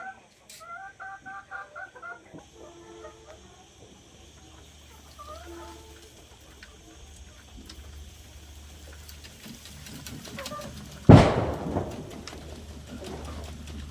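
Desi chickens on a black soldier fly larvae farm cluck and coo in short repeated bursts at close range, then fall quieter under a low hum before a sharp loud bang near the end.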